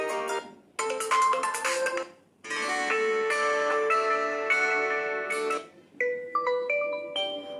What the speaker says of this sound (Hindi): इसमें बहुत सारे रिंगटोन है, तो मैं आपको जल्दी जल्दी बजा के दिखा देती हूँ।